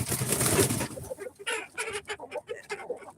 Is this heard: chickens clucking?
yes